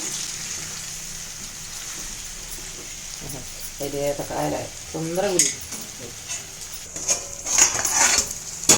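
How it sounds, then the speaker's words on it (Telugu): Ginger garlic paste frying with brinjal for a brinjal-potato curry hisses steadily in the pan as a spoon stirs and clinks, with a voice talking briefly in the middle. "అల్లం వెల్లుల్లి పేస్ట్ పచ్చి వాసన పోయేంతసేపు ఫ్రై చేసుకోవాలి"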